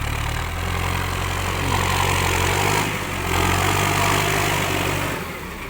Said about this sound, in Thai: นาน ๆ ที เราจะได้มาถ่ายรถไถใหญ่ ๆ แบบนี้ครับ